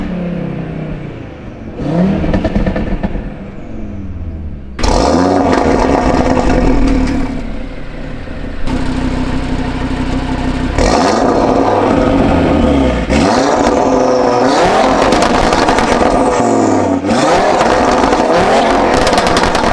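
An Audi RS3 with a CTS Turbo catless downpipe, Unitronic catless mid pipes and factory RS Sport exhaust revs hard again and again, each loud raspy blip rising sharply and falling back in quick succession.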